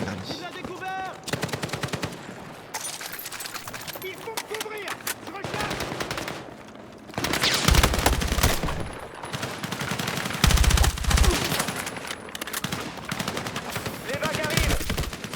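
Battlefield 6 gunfire rattles in dense automatic bursts and single heavy shots, loud and close. Deep explosive thumps hit at intervals, with brief quieter gaps between the volleys.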